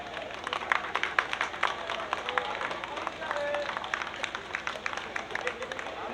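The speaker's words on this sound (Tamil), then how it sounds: "எல்லாரும் கைதட்டுங்க" Audience at a Tamil village stage comedy drama claps and cheers steadily throughout, a dense crackle of many hands mixed with crowd murmur and scattered voices, moderately distant.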